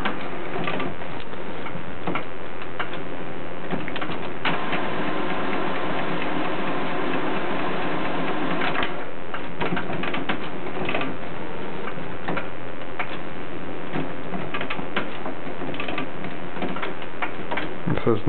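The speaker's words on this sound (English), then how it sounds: "And in a matter of seconds, it's printing." An inkjet printer, low on colored ink, prints a document sent from an Android device, giving a steady mechanical ticking and whirring of the print carriage and gears that runs continuously and close by with no talk.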